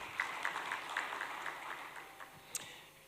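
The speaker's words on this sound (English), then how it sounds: "let's give him a big round of applause for setting the tone this morning" Scattered, fairly light applause at a parliament event in Malawi, with a handful of distinct claps over a soft wash that thins out, and one sharper clap near the end.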